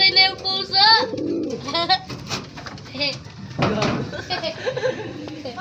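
Pigeons coo softly and repeatedly while people talk over them nearby.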